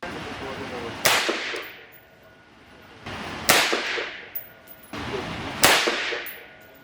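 Three carbine shots fired outdoors with an F241 flash hider and no suppressor, each a sharp loud crack with a long decaying echo, spaced about two seconds apart.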